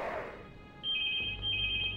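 A telephone rings in the background during a Rome: Total War game session, a steady electronic trill that starts partway through and runs on at a moderate level.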